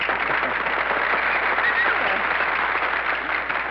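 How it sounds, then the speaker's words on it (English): A studio audience applauds, dense steady clapping that fills the whole few seconds at an even level, with no break or fade. "there's nothing like a little applause to brighten up the house on a moody day"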